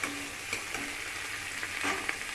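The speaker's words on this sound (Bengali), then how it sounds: "এগুলো হালকা করে ফ্রাই করে একটু চাপা দিয়ে দেবো" Paneer pieces frying lightly in a pan over a low flame, a steady soft sizzle with a few faint stirring scrapes, close and alone with no talking.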